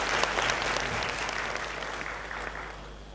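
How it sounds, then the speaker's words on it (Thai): Audience at the opening of an academic seminar applauding students, a dense, steady round of clapping that slowly tapers off, with no voices over it. "ขอเสียงปรบมือให้กับนักศึกษาอีกครั้งค่ะ"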